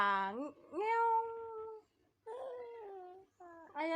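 A child imitates a cat's meow with several drawn-out, wavering mews in a row, separated by short pauses, close and clear.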